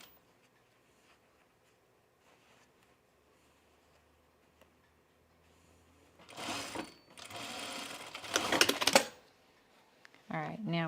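A sewing machine stitches a pullover camp dress in two loud whirring bursts near the end, after a quiet stretch of faint background sound.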